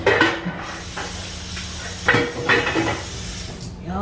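Shrimp drop into a pan of pasta on low heat, with a soft hiss and clinks of utensils against the pan. Brief voices come in between the handling sounds.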